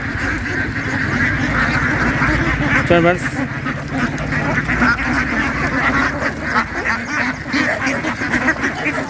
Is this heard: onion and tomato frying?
no